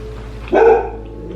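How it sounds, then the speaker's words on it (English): A single short dog bark, close and clear, against a quiet background. "I don't know what she's barking at."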